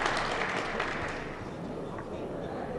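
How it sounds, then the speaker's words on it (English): A snooker crowd at the 2016 China Open claps for Ronnie O'Sullivan's match against James Wattana, a steady, moderate wash of applause from the arena under a commentator's voice. "they're clapping, but obviously they realise that he didn't play the yellow"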